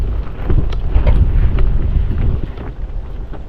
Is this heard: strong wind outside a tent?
yes